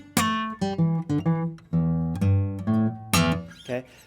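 Fingerpicked blues guitar riff, a short rhythmic phrase of plucked notes with sharp attacks, small slides and brief pauses, close and clear with no talking.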